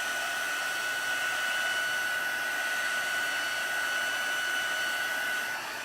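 A hair dryer blows steadily and loudly on watercolor stamping paper, a continuous whooshing hum lasting the whole stretch with no talking.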